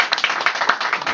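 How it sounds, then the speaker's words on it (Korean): At the close of a short lecture at a reading club, a roomful of listeners claps in a brief, brisk burst of close, overlapping handclaps lasting about a second. "우리 박수 다시 한번 부탁합니다."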